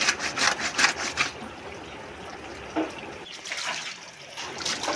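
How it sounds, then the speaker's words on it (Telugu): Running water splashes and trickles steadily while snakehead (murrel) fish are scrubbed clean, with louder bursts of splashing at the start and end and no talking. "చేపలు వేయటప్పుడు గట్టిగా కడుక్కోవాలి"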